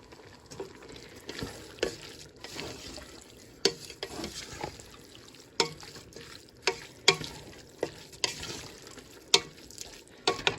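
A spoon stirs bolognese sauce in a pot, making wet scraping and squelching strokes over a soft sizzle. The stirs fall in an irregular rhythm, close up and fairly quiet, with no talking.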